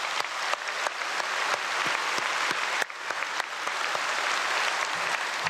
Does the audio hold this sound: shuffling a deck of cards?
no